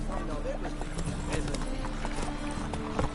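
Roach, a horse in The Witcher video game, gallops with a steady rhythmic clip-clop of hooves close by, with a voice speaking over the hoofbeats.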